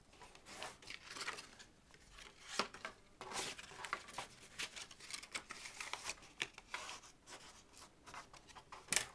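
Paper being creased with a bone folder while assembling a gift bag craft, heard as close, soft scraping and rubbing strokes repeating in quick irregular bursts with no talk.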